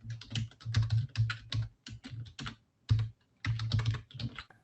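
Computer keyboard being typed on in quick bursts of close, crisp key clicks separated by short pauses, with no voices.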